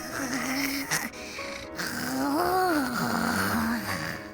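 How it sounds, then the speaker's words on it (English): A sleeping character snoring and grinding her teeth in the Yumeutsutsu Re:Master video game, heard as drawn-out, close, groaning tones that rise and fall with rough, breathy texture. "I hear snoring and gnashing of teeth like trimmers"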